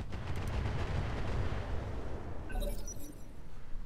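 Artillery shells strike a mech's torso during a Roguetech battle, producing a dense, continuous low rumble of heavy impacts with crackling debris and a few brief metallic, ringing tones near the end.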